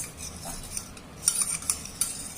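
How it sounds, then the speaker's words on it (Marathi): A spoon stirs yogurt and milk in a bowl, scraping, with soft clinking taps repeating irregularly against the container, close and fairly quiet, no talking. "याच्यात आपण थोडं दूध टाकूया आणि ते व्यवस्थित मिक्स करा"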